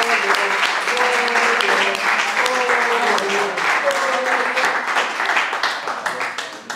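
Sustained audience applause at a book presentation, dense and steady clapping filling the room, with voices murmuring and calling out underneath.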